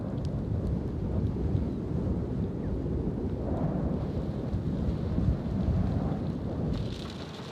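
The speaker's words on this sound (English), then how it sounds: "In the midst of a violent thunderstorm" A violent thunderstorm at high-altitude Tossor Pass, 3,800 meters up, sounds as a dense, constant roar of rain and wind buffeting the microphone, with deep rumbling underneath and no pauses.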